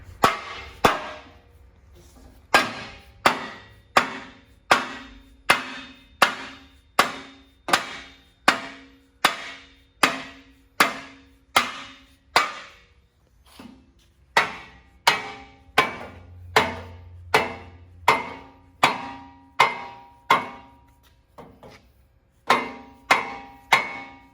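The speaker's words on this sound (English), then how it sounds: "May take a little persuading with a dead blow hammer to get it to fit in there." A dead blow hammer strikes a metal bracket in a steady series of roughly twenty sharp, evenly spaced blows, with short pauses partway through, during a Crown Victoria swap into a 1969 Ford F100.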